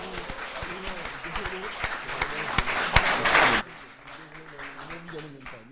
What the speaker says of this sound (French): moi, j'applaudis très fort